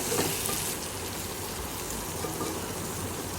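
Prawn curry sizzles in a pan while being stirred, a steady soft hiss and crackle of frying throughout, fairly quiet, with no voices.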